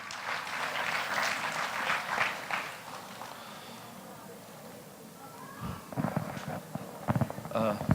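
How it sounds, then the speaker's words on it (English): Applause from an audience fills the first few seconds at a gala dinner and banquet, then fades as people talk over the murmur of a crowded room. "A round of applause, ladies and gentlemen."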